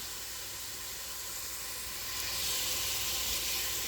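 Pork sausage sizzling in a pan, making a continuous bright hiss with crackle that swells slightly louder toward the end, close and with no voices.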